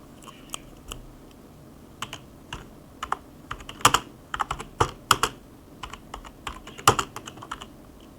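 Rapid clicking of a computer keyboard while a message is typed, keystrokes tumbling in irregular bursts with a few sharper, louder taps, close and clear with no voices.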